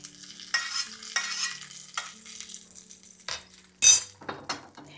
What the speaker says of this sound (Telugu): జీడిపప్పు వేసి కొంచెం దూరగా వేయించి వీటిని తీసి పక్కన పెట్టేద్దాం